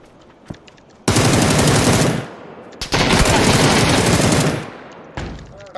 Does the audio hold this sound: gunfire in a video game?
yes